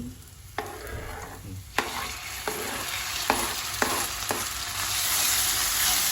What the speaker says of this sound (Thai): ผัดให้พอเหลือง ให้มันพอเหลือง